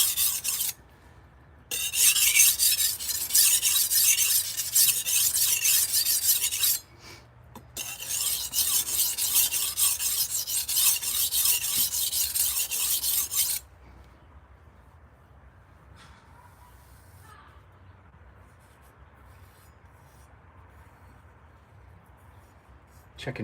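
A bent-tipped kitchen knife is drawn across a sharpening stone in two long, harsh rasping passes separated by brief pauses, then quiet remains.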